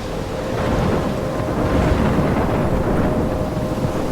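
Stormy weather in the video game Life is Strange: a steady, dense roar of rain and wind with deep rumbling thunder rolling underneath, continuous and fairly loud throughout.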